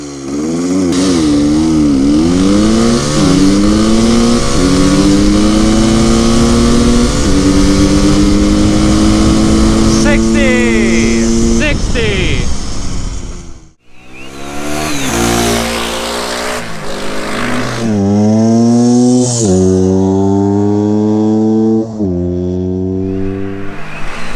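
Two dirt bikes, a vintage MT250 two-stroke and a 2022 Kawasaki KLX 300 four-stroke, accelerate hard from standstill to 60 mph one after the other, loud engines rising in pitch through repeated gear shifts, with a brief gap between runs.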